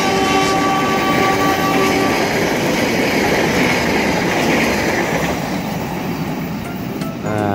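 A diesel locomotive, CC2039505 in vintage livery, hauling the Serayu passenger train in Indonesia, rolls steadily past close by, loud and continuous, with rhythmic wheel clatter and a faint squeal near the end.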